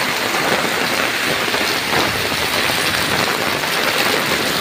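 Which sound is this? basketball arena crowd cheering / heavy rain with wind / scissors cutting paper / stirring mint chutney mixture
heavy rain with wind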